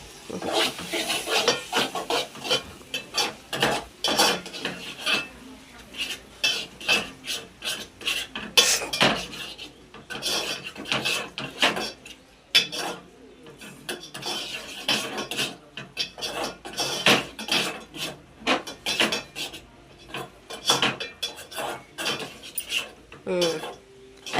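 Rhythmic scraping and clinking of a spoon stirring salted ingredients together in a pot, steady strokes repeating close by throughout with a little background voice.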